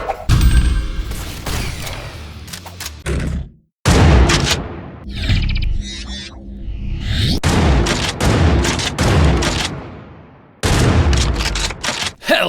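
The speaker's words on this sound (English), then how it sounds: "Hellbound! Triple shotgun." A triple-barrelled shotgun in the FPS game Hellbound, loud booming blasts repeated in rapid succession over driving music, with a few brief pauses and heavy impact crashes between volleys.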